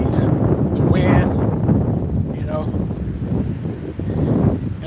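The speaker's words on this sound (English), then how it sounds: "enjoying a beautiful breeze out here. Just looking at the trees and the wind" Steady outdoor breeze rushing past the microphone as wind blows through trees, a continuous loud broadband roar with gusty swells, while a voice talks over it at times.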